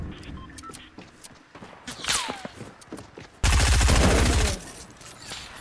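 Gunfire in Fortnite duo play: scattered single shots and movement sounds, then a loud dense burst of rapid automatic fire lasting about a second, close and dominant, fading back to quieter game noise.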